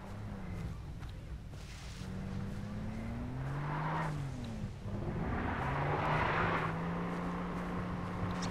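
A car engine in the video game Far Cry 3 Blood Dragon drones past with rising and falling pitch, a steady motor hum that swells and fades over several seconds against background noise.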